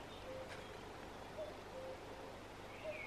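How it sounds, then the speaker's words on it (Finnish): A common cuckoo calls in the distance outdoors, its faint, soft hooting notes repeating a few times over a quiet, steady background. "Kuuletteko käki kukkuu?"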